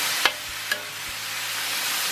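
Beef and vegetables in a Mongolian-style marinade sizzle steadily in a hot pan while being stir-fried, with a constant hiss and a couple of sharp clacks of a utensil near the start.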